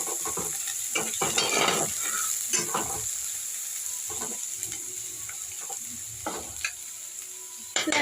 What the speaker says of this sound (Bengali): ও পেঁয়াজ কুচি আর কাঁচা লঙ্কা কুচিটাকে তেলের মধ্যে দিয়ে দেওয়া হলো।